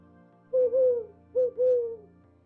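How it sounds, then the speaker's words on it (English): Owl hooting, two clear, loud drawn-out hoots close by, each one a short note followed by a longer one, against a faint background hum. "O is for owl."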